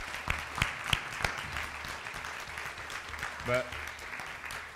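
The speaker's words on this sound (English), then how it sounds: "Will you give him a hand clap?" Church congregation clapping hands, a scattering of sharp claps spread through a murmuring room with a voice briefly speaking over it.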